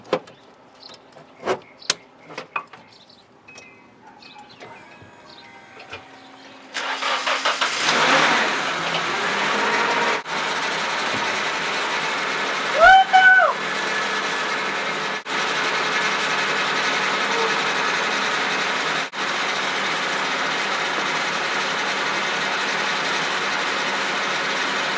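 A Nissan 240SX engine cranks and catches on its first start, after a few light clicks and knocks, then settles into a loud, steady idle that runs on and on with no voices.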